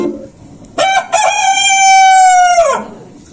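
A rooster crows once during a staged fairy tale play: a loud, clear, drawn-out crow held for about two seconds, then fading out, with no talking over it.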